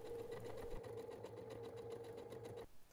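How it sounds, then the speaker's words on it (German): A domestic sewing machine stitches fabric bag pieces right sides together with a fast, steady mechanical whir, running continuously at close range and stopping abruptly near the end. "Anschließend werden die Teile hier rechts und links aufeinander genäht."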